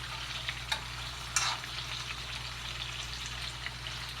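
Kielbasa sizzling in a pan at medium heat, a steady close frying hiss with a few sharper crackles and pops and no talking.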